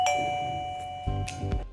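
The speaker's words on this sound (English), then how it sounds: "then the chime will ring" A wireless video doorbell chime rings clearly with a sustained electronic tone, followed by a couple of soft clicks and knocks near the end.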